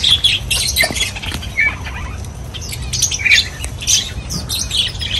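Many birds squawk and chirp over one another in a constant, dense chorus, loud and close, with wing flaps mixed in.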